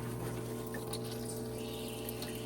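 A parts washer pump runs with water, giving a faint, steady hum with a constant watery wash and light trickling, alone without talk for a couple of seconds.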